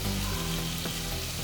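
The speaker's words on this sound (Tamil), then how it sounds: "வெங்காயம் நல்லா கலர் மாறி வதங்கி வந்ததுக்கு அப்புறமா தக்காளியை சேர்த்து கொஞ்சமாக வதக்கிக்கணும்." Onions and tomatoes with turmeric sauté in a pan for spinach rice. A brief, steady sizzle is heard close up with no talking.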